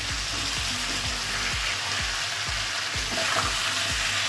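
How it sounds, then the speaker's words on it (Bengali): Raw banana and other vegetables fry lightly in a pan, a steady hissing sizzle broken by regular soft scrapes of stirring, close and even throughout with no voices. "সমস্ত সবজিটাকে হালকা হালকা ফ্রাই করে নেবো"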